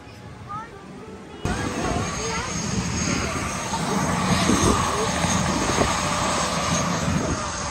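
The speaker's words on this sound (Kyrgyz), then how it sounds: "Достор, биз деген вертолетко түшкөнү келдик." A helicopter engine and rotor in Orlando, USA, kick in suddenly and then drone loudly and steadily, with faint voices underneath.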